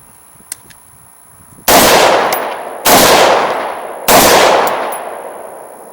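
Three loud gunshots ring out at an outdoor range test of a rifle fitted with a Sightmark Mini M-Spec LQD red dot sight, each sharp crack spaced about a second apart and followed by a long decaying echo.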